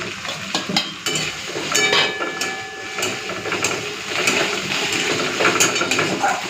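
Chopped tomatoes fry in a pan for an aloo paneer curry, a steady sizzle broken by scraping stirs and clinks of a spoon, close and fairly loud.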